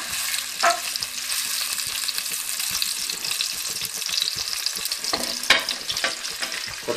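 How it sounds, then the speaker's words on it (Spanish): Chopped onion and bell pepper frying in hot oil in a pot, a dense continuous sizzle with occasional stirring scrapes and clinks up close. "Empezaremos a añadir a una cazuela con aceite caliente todas las verduras para que se pochen"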